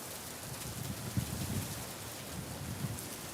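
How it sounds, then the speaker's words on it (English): Steady rain from a thunderstorm patters outdoors, a constant wash with a few low rumbles swelling and fading through it, no voices present. "Oh yeah, this is a good little storm."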